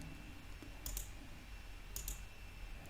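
A computer mouse clicks through the steps of a software installer, two separate pairs of sharp, quiet clicks spaced about a second apart against a faint steady room hum.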